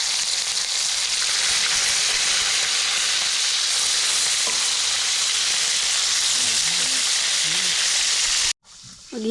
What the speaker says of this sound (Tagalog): Kaya magpiprito muna kami.